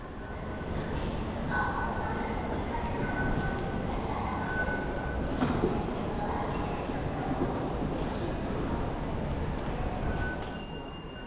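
Suzhou subway train ride heard from inside the car, a steady rumbling roll with faint squeals and rattles, fading slightly at the end.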